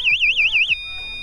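A cheap motorcycle alarm triggered by its lightning-bolt button wails loud and close, its shrill tone warbling up and down in three fast sweeps before settling into a flat, steady beep.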